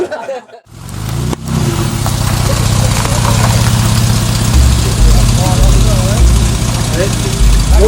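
An old Jaguar's 3.8 engine idles close by with a steady, low, throbbing rumble after a brief quiet start. Voices talk over it in places.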